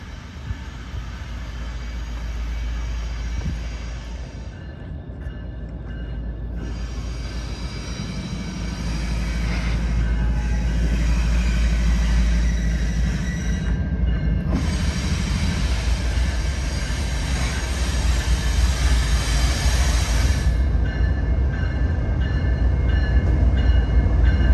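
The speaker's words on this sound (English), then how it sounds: "Here comes the train." A CSX freight train rumbles past on street-running tracks with a deep, steady roar that swells and stays loud, broken by hissing and rattling bursts as the cars roll by.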